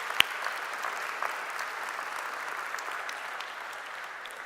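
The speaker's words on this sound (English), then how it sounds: "let's just give a round of applause for Jakub and the team that has brought us all here today" Audience applause at a conference, a steady, fairly distant wash of clapping from a sizable crowd that holds evenly throughout with no talking over it.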